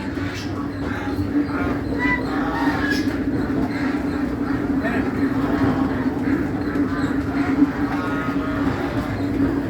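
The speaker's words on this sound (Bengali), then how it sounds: "আমরা আজকে এসেছি গল্লামারি হাঁস বাজারে" A busy crowd of ducks quacks continuously under a steady low hum and background chatter at the Gollamari duck market in Khulna, a dense, noisy market din.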